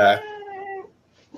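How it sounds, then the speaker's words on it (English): A house cat lets out a single short, fairly close meow, followed by a fainter drawn-out trailing cry and then quiet. "That's my cat."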